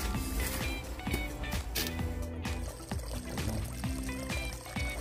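Water pouring from an irrigation pipe into a small rice field, a steady splashing flow with a faint rhythmic mechanical thumping underneath and no talk.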